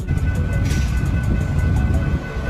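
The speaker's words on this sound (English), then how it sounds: "A train equipped with firefighting equipment, used to combat fires along railway lines or in remote areas accessible by train." A fire attack train equipped with firefighting gear rolls along the rails, a loud continuous low rumble with rhythmic clatter and faint squeals throughout.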